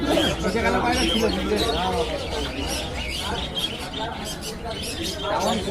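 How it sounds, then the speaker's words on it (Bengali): Pigeons, including kaldom and white birds, at the Krishnanagar weekly market coo and chirp softly within a constant crowded din, with someone talking steadily over them. "এখানে কিছু কবুতর আছে চার থেকে পাঁচশোর মধ্যে পেয়ে যাবেন"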